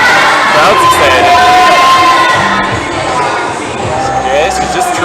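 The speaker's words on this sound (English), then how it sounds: "Crowd's excited." Spectators at a provincial top rope climbing finals cheer and shout loudly and continuously, with higher children's whoops rising over a dense crowd roar that dips slightly toward the end.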